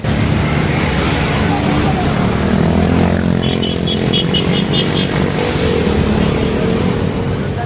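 A Ducati Monster motorcycle rides into a foggy bikers' meetup in Kolkata, its engine rumbling loud and steady with a rise in revs partway through. Someone talks over the noise.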